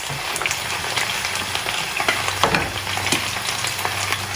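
Milkfish sizzles loudly on a hot sizzling plate. Dense, close crackling and spitting runs throughout with irregular pops.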